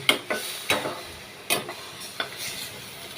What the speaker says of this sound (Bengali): আর এদিকে চিকেন কষাতে বসেছি।